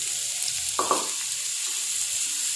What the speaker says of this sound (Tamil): வெங்காயம் வந்து லைட்டாக வதங்கட்டும்.